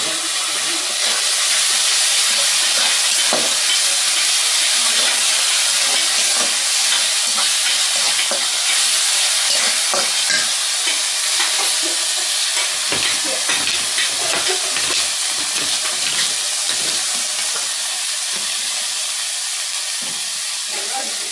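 Spice paste for a hilsa and pumpkin dish fries hard in a pan, a loud, continuous sizzle and hiss with scraping stirs running under it throughout.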